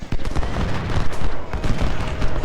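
Musket volleys and artillery fire from a Civil War battle in the strategy game Ultimate General: Civil War: a dense, continuous crackle of gunfire with heavier booms mixed in, loud throughout.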